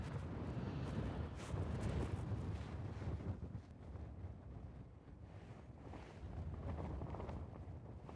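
Strong wind buffets the microphone on a wet, windy New England golf course, making a steady roar that rises and falls over the whole stretch with no voices.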